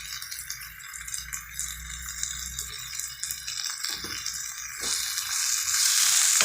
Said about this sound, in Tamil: ஒரு குட்டி தக்காளி, அதை வச்சு கொஞ்சம் வதக்கிக்கிறேன்.